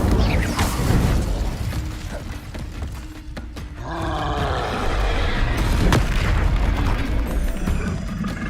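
Fiery Incendio spell effects from Hogwarts Legacy combat, a dense rushing roar with booming impacts and mechanical clatter, a burst near one second and another blaze swelling from about four seconds on, loud and sustained with no voices.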